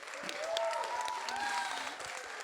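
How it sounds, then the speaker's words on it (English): Faint, steady applause from a small group of guests at a destination wedding in Italy, with some voices murmuring over the clapping. "we should just give these two an applause for finding such a beautiful place"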